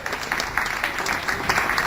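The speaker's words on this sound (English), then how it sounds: "That deserves a round of applause for sure." An audience at a Colchester, Vermont quadricentennial proclamation event claps steadily, a dense, even patter of many hands filling the room without a break.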